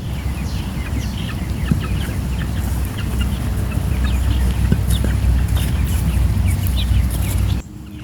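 Several hens cluck and chatter close by around a coop, a busy flock murmuring continuously over low background rumble.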